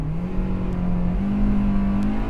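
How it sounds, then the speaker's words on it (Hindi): A Hyundai Verna car engine accelerating in sports mode, with a loud, close, steady engine drone whose pitch holds and rises slightly as it revs, and no talking. "Let's just see the acceleration."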